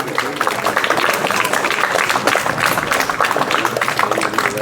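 An audience of children and parents claps at a school ceremony honouring top students, a dense and lively burst of applause that carries on throughout, with a voice faintly heard beneath it.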